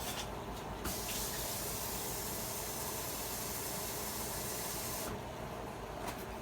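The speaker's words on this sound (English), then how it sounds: "And then you add in your water from here." Water is poured from a container into a pan of hot grease and flour for cube steak gravy, giving a steady close splashing hiss throughout with no talking.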